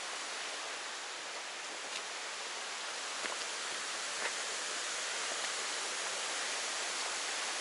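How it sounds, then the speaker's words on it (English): Steady broadband rushing of a cascade waterfall on the Foothills Trail, constant and fairly distant, with no voices. "Waterfall."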